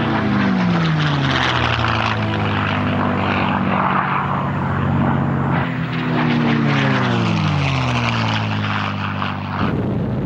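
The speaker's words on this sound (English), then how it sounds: "The US engine had been replaced by a British-made Rolls-Royce Merlin." A WWII fighter plane fitted with a British-built Rolls-Royce Merlin engine drones loudly and steadily overhead, its propeller roar rising and falling in pitch as it passes, with no talking.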